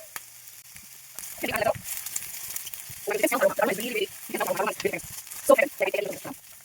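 Chopped onion sautés in a hot pan for a canned corned beef dish, a steady soft sizzle running underneath a person talking throughout.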